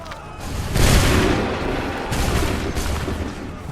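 A musket volley fires in Assassin's Creed 3 during a Lexington and Concord battle, a deep booming burst followed by a second rumbling wave of shots that fades into a lingering roar.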